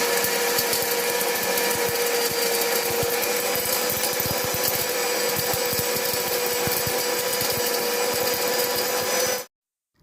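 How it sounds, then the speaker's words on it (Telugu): An electric mixer grinder whirs loudly and steadily while grinding curry leaves, coriander seeds and tamarind for rasam, a continuous close motor roar that cuts off abruptly near the end. "దీన్నైతే నేను మిక్సీ పడుతున్నాను"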